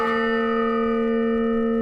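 A single ringing stroke of the Honor Bell used at military funerals in southern Colorado, a loud clear tone with strong sustained overtones decaying slowly, heard alone.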